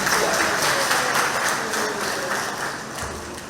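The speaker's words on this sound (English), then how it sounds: "So give yourself a round of applause." A seated audience at a retired persons' monthly community meeting claps for themselves, steady dense applause throughout that eases slightly toward the end.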